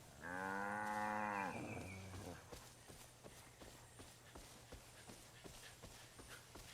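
Cows and a bull in Far Cry 5 give one long, loud, close moo, followed by a steady run of soft hoof-like clops and thuds over a low game hum.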